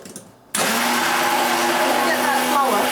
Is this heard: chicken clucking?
no